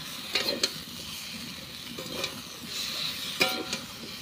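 Mustard paste lightly frying in a pan with a little water, a low steady sizzle punctuated by several scraping, clinking spoon strokes against the pan, close with no talk.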